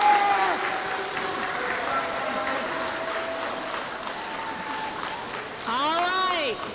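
Audience applause for a first-place team at a school robotics competition, a moderate wash of clapping under background voices, ending with a nearby voice speaking.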